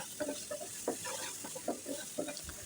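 Taro and shrimp curry being sautéed in a pan with garlic paste gives a soft sizzle under a series of spoon scrapes and stirring taps at a steady, close rhythm.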